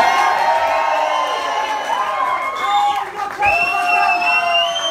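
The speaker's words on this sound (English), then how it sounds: "give me a big round of applause for Miss Susan Anderson" A live audience cheers and applauds for a woman introduced on stage, with loud crowd whoops and shouts ringing out over continuous clapping, dense and close throughout.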